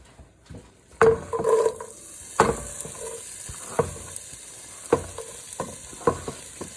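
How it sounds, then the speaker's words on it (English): Onions cooking in a pan for lasagna, a continuous low sizzle with repeated clanks and scrapes of a utensil against the pan, close and clear. "it's cooking our onions"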